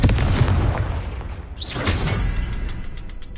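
A Confringo spell blast in a fantasy video game produces a string of punchy booms and gunfire-like bursts, followed by a whooshing magical swell and then a series of rapid, ringing metallic clicks near the end.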